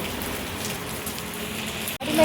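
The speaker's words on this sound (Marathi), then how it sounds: "एवढा पाऊस पडतोय आणि ही कुठं निघाली" Steady, dense rain patters on a surface, close and constant, with a brief dropout near the end.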